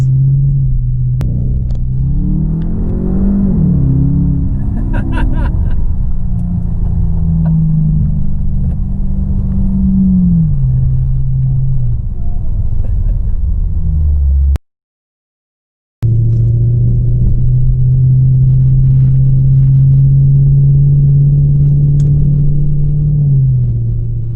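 Straight-piped car exhaust with the mufflers deleted, a loud, steady low drone inside the cabin that rises and settles with the revs, cuts out briefly, then returns as a constant cruising hum with no talk.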